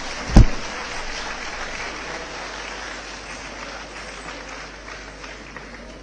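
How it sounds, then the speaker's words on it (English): An audience applauds at the SPARSA 2026 annual event in the JRC Convention hall in Film Nagar, Hyderabad. A thump opens a steady, dense wash of clapping that holds for several seconds and then eases slightly. "Ladies and gentlemen, please welcome Varshini with a big round of applause."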